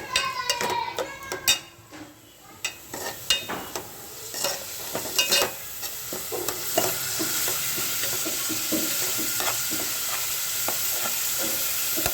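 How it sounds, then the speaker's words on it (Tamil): Onions sautéing in a pan for a fish kuzhambu: irregular clatters and scrapes of a spatula against the pan at first, settling into a steady, even sizzle of frying, no speech. "கொஞ்சம் வெங்காயம் நல்லா வதங்கட்டும்."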